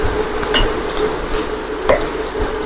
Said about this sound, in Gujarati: અને આપણે સારી રીતે તેને મિક્સ કરી દઈશું.